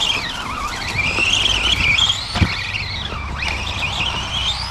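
Tamiya TT02B Plasma Edge RC car on a 2S battery running with a tight gear mesh, a loud whining motor and gear note sweeping up and down in pitch as it speeds and slows, with a sharp click midway.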